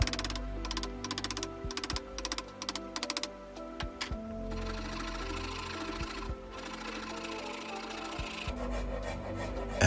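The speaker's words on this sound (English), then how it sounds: "Back to the chisel, where there's enough material to make it make sense." A hand chisel carves a wooden pedestal table leg, giving close, dry rasping scrapes in quick repeated strokes, then a longer steady stretch of rough shaving, with no voices.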